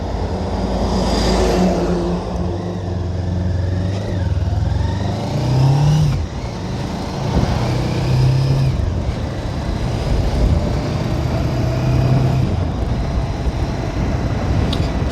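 A motorcycle being ridden, its engine droning and rising through revs as the bike accelerates and shifts, heard up close over rushing wind.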